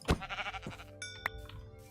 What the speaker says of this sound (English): there are some sheep here